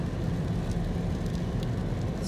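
Steady rain falls along a highway, a continuous even hiss with a low rumble underneath and no breaks.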